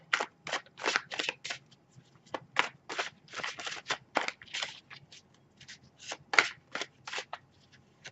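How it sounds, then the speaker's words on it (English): Tarot cards are shuffled in a quick run of crisp, flapping riffles and snaps, close by and fairly soft, with short pauses between bursts. "I gotta shuffle the cards very well."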